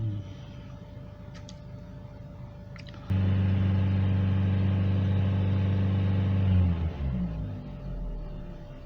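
A Vauxhall Astra 1.4 litre engine idles steadily, then jumps to a loud, sustained higher rev about three seconds in, holding the raised speed before dropping back toward idle near the end.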